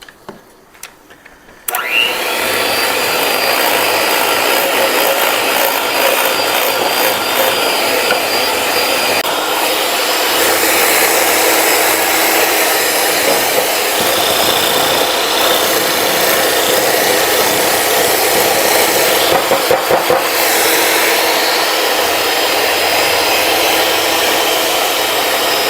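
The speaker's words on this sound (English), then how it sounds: "we're supposed to beat that into the butter for another 3 minutes" An electric mixer beats sugar and butter for chocolate cake batter in a home kitchen. After a brief quiet start, it settles into a loud, steady whir that runs unbroken for the rest of the clip.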